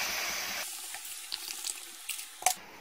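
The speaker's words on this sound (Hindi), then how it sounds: "इसमें 3 कप पानी डालेंगे" Water poured into a pot of rice for matar pulao with green peas, a short splashing pour at first that gives way to faint drips and small clinks.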